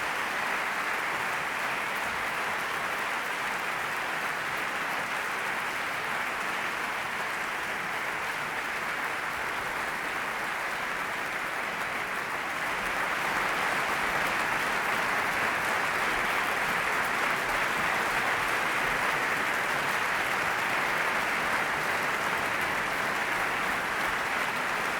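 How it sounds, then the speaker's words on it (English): An audience at the Frontiers of Knowledge Awards ceremony applauds in one long, even round that swells slightly louder midway and carries on unbroken to the end, with no voices over it. "Please give them all a round of applause."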